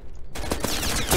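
UMP submachine gun firing in the Roblox game Aimblox, a loud rapid burst of shots starting abruptly and rattling on without pause.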